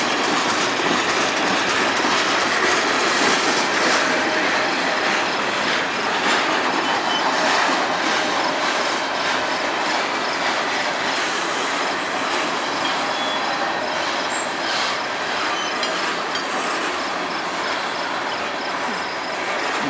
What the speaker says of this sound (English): Alright, nice long train.